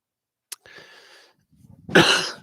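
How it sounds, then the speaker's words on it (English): A short sharp cough, then a louder harsh burst of coughing or throat clearing about a second later, close to the microphone with no talking. "It's not a dry cough. It's just I swallowed wrong."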